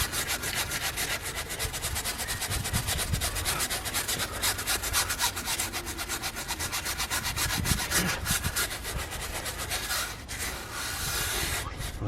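Stiff brush scrubbing a car tyre coated in ADBL tyre and rubber cleaner, a steady close rasping rub with rapid repeated strokes running throughout, briefly easing near the end.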